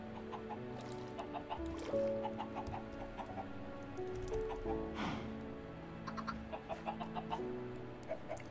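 Chickens cluck in the game Forgecraft, a run of short, repeated clucks and calls over a steady background music bed, close and fairly clear, with a quick rustle midway.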